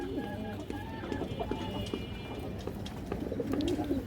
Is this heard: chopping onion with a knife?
no